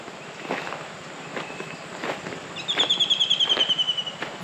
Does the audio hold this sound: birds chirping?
yes